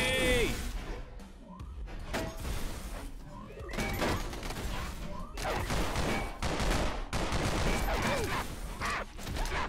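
AK rifle fire in a sidescrolling Far Cry video game, with dense bursts of gunshots, crashes and impacts layered over game music throughout.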